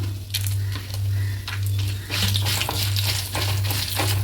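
Whole spices — cinnamon, clove, mace and star anise — sizzle and crackle in hot oil for a mutton curry, with steady frying hiss and occasional stirring scrapes, close and continuous without talk.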